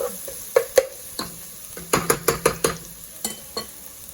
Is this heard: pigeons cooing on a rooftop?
no